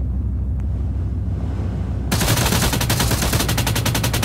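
Cover fire in a video game firefight: after a quieter low rumble, sustained automatic gunfire abruptly erupts, loud and close, continuing as a rapid unbroken rattle.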